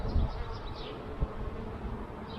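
Honey bees buzz steadily around an open mini urban beehive during an inspection, a soft continuous drone with a few louder low bumps as frames are handled.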